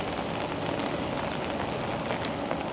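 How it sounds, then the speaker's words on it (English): Steady rain hissing down on a street, a dense, even patter with no pauses and no voices. "No, it's raining."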